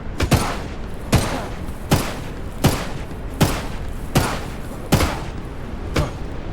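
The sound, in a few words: gunshots in HumanitZ video game raid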